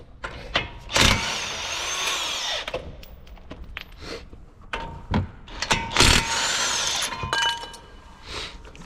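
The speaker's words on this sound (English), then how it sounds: "now you want to remove the brake caliper bracket, which is held by 22mm bolts" Tool work on the 22mm brake caliper bracket bolts of a Nissan Altima, with repeated loud mechanical bursts and ratcheting rattles close by, broken by brief pauses.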